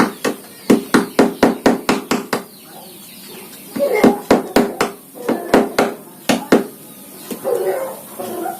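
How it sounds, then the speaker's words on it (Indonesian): A hammer strikes a punch through steel wire taken from a Vespa tire, giving sharp ringing metallic blows in quick rhythmic bursts with short pauses, loud and close, with faint background sounds between the strikes. "kalau bisa pukulan martil, pukul besi."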